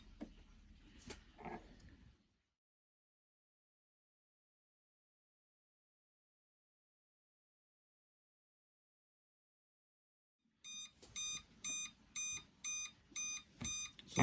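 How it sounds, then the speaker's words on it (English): A 1990s Swan Teasmade alarm goes off after a stretch of silence: a rapid series of loud, sharp electronic beeps in even, repeated bursts, close by, preceded by brief handling noises. "That's the alarm sound."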